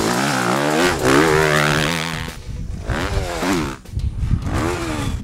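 A 2013 Suzuki RM-Z motocross bike, 250 or 450, screams along a dirt track, its engine rising and falling through loud revving sweeps, close and dominant throughout.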